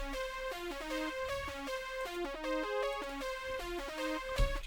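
Zonology Soul Lead 1 synth lead processed with Hyperchorus and EQ, a wide, shimmering melodic line of stepping notes over a steady low bass tone, with a soft kick-like thump near the end.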